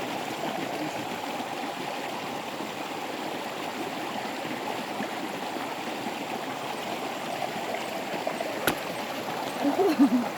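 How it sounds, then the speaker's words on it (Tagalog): A clear, shallow rural stream flows steadily, its constant close rushing and gurgling filling the whole span, with a brief splash near the end. "Sapa yan. Linaw-linaw."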